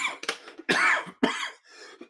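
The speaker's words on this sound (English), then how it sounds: "I don't need me coughing on your phone." A person coughs several times close to the microphone during a live online exam Q&A session, short harsh bursts separated by brief pauses, with some throat clearing and no talking.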